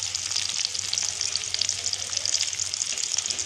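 Chopped tomato being mixed into onions fried until pink in a pan, a steady close sizzle with soft scraping and stirring, no voices.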